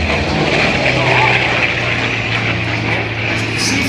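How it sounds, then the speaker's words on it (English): A-1 Skyraider and P-40 Warhawk propeller warbirds flying at an air show, a loud continuous droning engine roar with a steady low hum, an announcer's voice running over it. "that is the A-1 Sky Raider, being chased down today by P-40, flown by Missouri Congressman Sam Craig"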